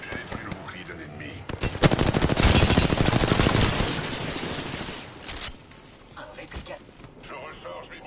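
Automatic gunfire from a battle royale video game: rapid machine-gun bursts build to a dense, loud volley in the middle, then give way to scattered shots, with a voice talking over parts of it.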